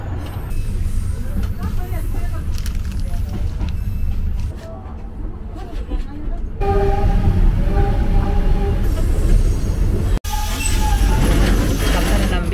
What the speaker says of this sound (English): This was our train.